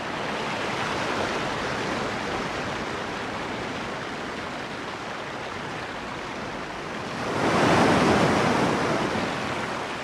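Ocean waves break and wash against an exposed rocky shore, a continuous roaring surf that builds into a louder crash toward the end, heard alone without voices.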